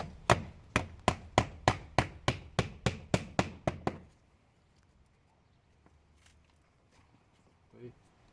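Hammer blows on wood shingles during restoration of an old windmill roof in Pakruojis district, about a dozen sharp, evenly spaced strikes close by, then stopping abruptly, followed by quiet room tone with faint distant noises.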